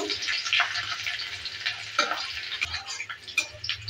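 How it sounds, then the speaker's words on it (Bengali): Whole cumin seeds and chopped garlic frying in a pan, a soft continuous sizzle with light stirring scrapes, moderately close and steady. "আর দিয়ে দিচ্ছি রসুন কুচি। ভালো করে একটু ভেজে ভেজে নেব।"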